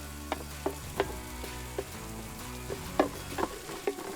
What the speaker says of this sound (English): we're gonna go ahead and add all our veg and aromatics to the pan